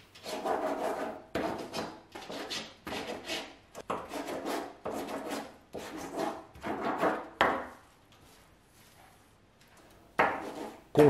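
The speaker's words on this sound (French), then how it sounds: "S'il est tordu, coupez-le avec une scie à métaux." Rhythmic back-and-forth rasping strokes of a hacksaw cutting through metal, close up, in several runs separated by short pauses.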